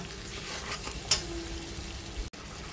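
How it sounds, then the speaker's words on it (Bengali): Kashmiri chili powder and four or five broken green chilies sizzle steadily in hot spiced oil for moong dal with pointed gourd, a continuous close frying hiss with a couple of brief stirring clicks and no talk. "এবার দিয়ে দেবো আমি একটু কাশ্মীরি লঙ্কার গুঁড়ো আর দিয়ে দেবো ভেঙে নেওয়া 4-5টা কাঁচা লঙ্কা"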